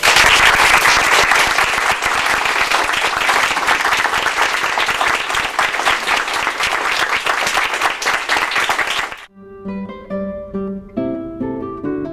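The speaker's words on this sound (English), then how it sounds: "And I would like to lead a round of applause for both Ned and for Ann." An audience at a Larchmont Village mayor's day event gives a loud sustained round of applause, which cuts off abruptly to a few seconds of music.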